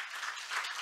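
Faint, distant applause from a forum audience in Jeju, a soft wash of many hands clapping at low level for under a second.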